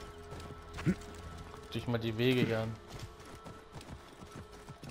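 Horse hooves clip-clopping in the video game Assassin's Creed Origins, with a short whinny-like call midway, heard beneath steady German commentary from a player.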